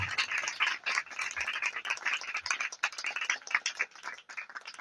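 A church congregation breaks into lively applause, a dense crackle of many hands clapping close by that runs without a break through the whole stretch, with no voices over it.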